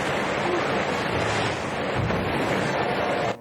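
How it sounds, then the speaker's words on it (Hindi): Rushing river water as a boat speeds along with the current in the film City of Ember, a loud, dense, continuous roar of flowing water and wind-like noise that holds steady before cutting off abruptly. "डुन लीना और पॉपी के साथ नाव पर निकल पड़ता है और आखिरकार वो उस रोलर को पार कर तेजी से पानी के बहाव के साथ आगे बढ़ने लगते हैं।"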